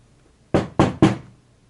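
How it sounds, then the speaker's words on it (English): Three quick, firm knocks on a wooden door, evenly spaced and close by, with near silence before and after. "He knocked on the door."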